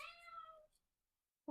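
A cat gives one clear, drawn-out meow close by in a quiet room, followed by a short soft chirp and then a brief knock.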